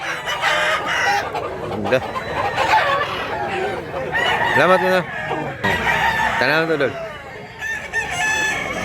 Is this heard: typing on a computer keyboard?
no